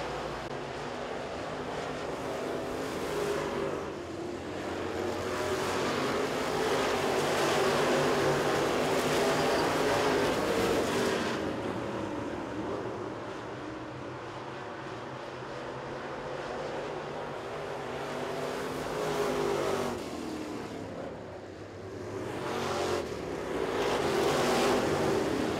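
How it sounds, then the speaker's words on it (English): Sportsman race cars roar around Cochran Motor Speedway in a continuous, broad engine drone that swells and fades as the pack passes, heard from trackside without any speech. "as Paul Smith just about loses that car on the backstretch"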